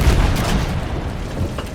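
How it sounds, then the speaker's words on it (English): A modest explosion from the Superb Warfare mod in Minecraft, a dull low boom with a rumbling tail that lasts under two seconds at steady loudness and carries no speech. "that's not a big explosion"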